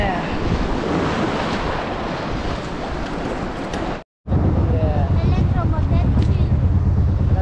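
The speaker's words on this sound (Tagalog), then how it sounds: "Lalaki nung alon, no?" Loud, steady roar of ocean waves and wind buffeting the microphone, with a brief silent break midway and voices faintly underneath.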